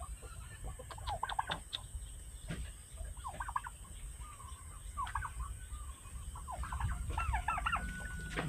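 A turkey on a farm clucks and gobbles in short repeated bursts at close range, the calls scattered irregularly over a constant background hiss, with no voices.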